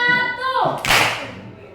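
After a short stretch of speaking, a single crisp hand clap rings out close by as part of a rhythmic clapping exercise, then fades quickly into quiet.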